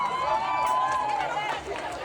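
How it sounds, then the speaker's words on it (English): A small crowd at St. Mary's school cheers in an echoing hall, a sustained chanted roar with a tonal, ringing quality that rises and falls over about two seconds. "Small crowd, but the echo is there, so give them a solid 8."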